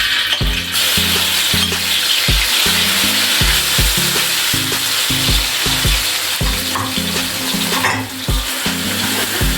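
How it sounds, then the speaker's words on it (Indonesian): Loud, steady sizzling of ground spice paste frying in hot oil, with rhythmic scraping and stirring strokes repeating throughout, close up. "setelah minyak gorengnya panas, kita masukin bumbu yang sudah dihaluskan tadi ya Bun"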